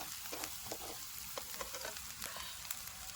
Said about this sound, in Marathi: तर अशा प्रकारे एक एक अंडा आईने सोडले